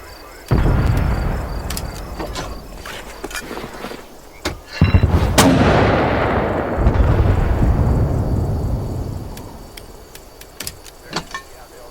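Mortar fire in the Vietnam-era war game Hell Let Loose: Vietnam, with two heavy booms, each followed by a long rolling rumble that slowly dies away, plus a few sharper clicks and thuds. No voices are heard.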